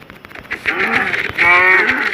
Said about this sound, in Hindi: पहले इस गाय को मारता हूँ।